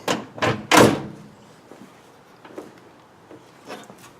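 A few heavy door thuds and bumps from a 1962 Cadillac Sedan DeVille, close and sharp at first, followed by quieter knocks and shuffling.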